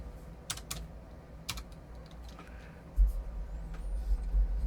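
Keystrokes on a computer keyboard come in a few quick bursts, then a short pause and a later run of taps, close and clear over low background hum with no talking.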